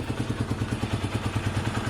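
A Sinnis SC125 motorcycle pulls away on a test ride, its small engine giving a steady, even low thumping pulse close by, fairly quiet.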